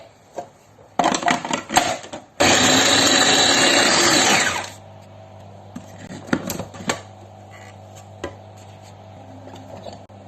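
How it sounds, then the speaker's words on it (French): An electric blender chops onions and garlic in loud bursts: short pulses first, then a long roaring run, followed by a low hum and small clatters as it winds down. "Donc là, je vais venir mixer mes oignons."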